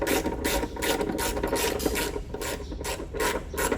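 A ratchet loosens a 13 mm battery bracket nut on a BMW, giving rapid, close metallic clicking in quick back-and-forth bursts that carry on steadily throughout.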